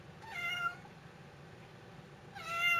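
A pet cat named Peanut meows twice indoors, one drawn-out call near the start and another at the end, with quiet room tone between.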